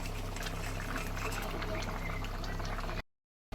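Fried tengra fish slides into a simmering, bubbling curry, a steady close sizzle and liquid bubbling for about three seconds before cutting off abruptly.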